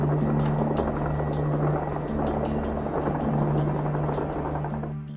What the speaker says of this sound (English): The video, we can hear it, sounds like a helicopter, doesn't it?